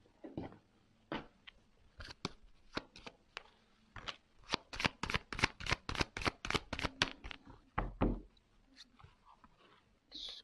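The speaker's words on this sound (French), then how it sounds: "je vais prendre quelques cartes, juste 3 cartes." A deck of tarot cards shuffled and drawn by hand, producing a rapid run of crisp, close riffling snaps that build into a dense burst midway, then thin out to a few scattered flicks; no voices.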